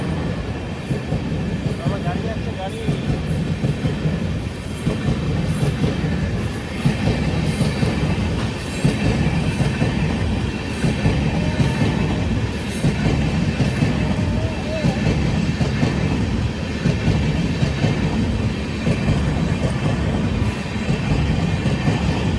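A train rumbles past close by at a level crossing, wheels clacking in a regular rhythm over the rails, the heavy rolling noise continuing steadily throughout.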